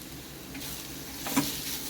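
Bombil, Bombay duck fish, sautéing in a pan over low heat, a soft steady sizzle with a faint scrape of stirring, close and quiet.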